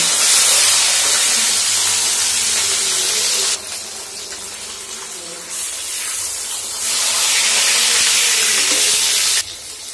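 Fish fries in a pan with a loud, steady hiss and sizzle that drops and swells in level as the pan is handled, close up and without talk.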